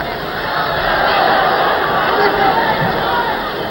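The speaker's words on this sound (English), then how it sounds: "Big section of the crowd behind us here roaring for Quarry" Large boxing crowd at a 1972 heavyweight bout between Foster and Quarry, roaring steadily in support of Quarry; a dense, continuous wash of voices and cheering with no pauses, loud throughout.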